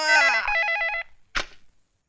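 A telephone bell rings loudly and close up in a rapid trilling burst, then stops abruptly, followed by one short clunk and then silence.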